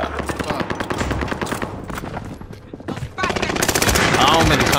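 Rapid automatic gunfire from a video game battle, loud and dense bursts of shots running almost continuously, with a brief lull before the firing swells again near the end.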